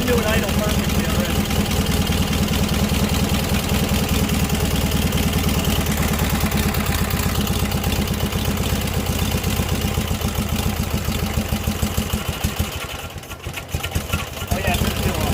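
A Briggs opposed twin engine that has sat unused for a long time idles steadily and loudly nearby with a rapid even chug, dipping briefly near the end before picking back up.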